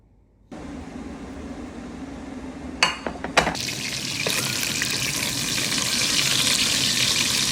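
Bacon sizzles in a pan, a steady frying hiss that begins abruptly, with a few sharp clatters partway through before the sizzle grows fuller and louder.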